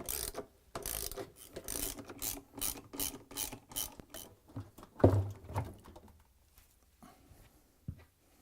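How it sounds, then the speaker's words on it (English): A 10mm socket wrench ratchets in quick, close bursts while unscrewing counterweight bolts on an LG/Kenmore washing machine, followed by a few metallic clanks and scrapes as parts are handled. "using the 10mm socket wrench, unscrew 4 bolts and remove the counterweight"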